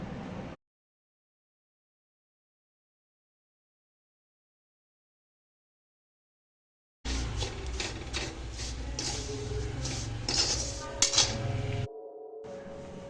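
Shemai vermicelli being fried and stirred in a pan: a long silence, then a utensil scraping and clinking against the metal pan with a few sharper taps.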